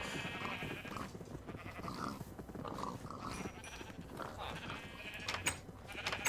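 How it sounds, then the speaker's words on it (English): Several video game sheep bleat repeatedly over a steady hum, their calls overlapping at moderate distance, with a couple of sharper clicks near the end. "we have so many of these darn pigs and sheep"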